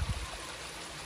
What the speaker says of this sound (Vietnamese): Wow, suối chảy dốc vách dốc vách này.